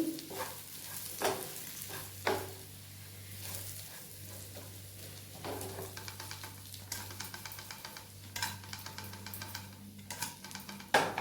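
Bitter gourd (kakarakaya) sizzles in a pan with masala while being stirred, a soft continuous fry broken by occasional scraping strokes of the spoon.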